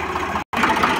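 Swaraj 735FE tractor engine running steadily at a low rumbling idle, close and loud, with a brief cut in the middle.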